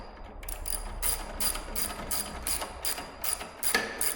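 A ratchet tightens backrest hardware on a 2020 Harley Street Glide, with about ten crisp, close clicking bursts in a quick regular rhythm and no talk.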